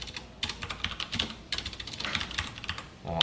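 Code is being typed on a computer keyboard during a Java programming lesson: quick, close, irregular clacking of keys with short pauses, quiet and alone without speech.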